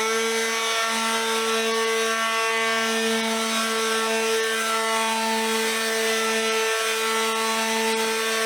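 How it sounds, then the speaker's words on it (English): A power sander runs steadily on dry mid-century wooden furniture fitted with 150 grit sandpaper, a loud continuous whine with a constant tonal hum and rough friction noise throughout, without breaks or talk. "this is all dry, ready to be sanded. I got some 150 on here."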